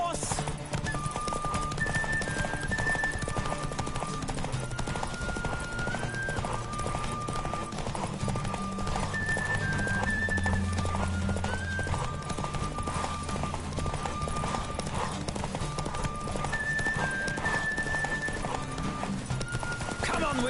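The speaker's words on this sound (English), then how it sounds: "Don't spare the horse!" A horse races in Witcher 3, its hooves pounding in a fast, steady clip-clop under an orchestral music score, while a voice speaks now and then over the galloping.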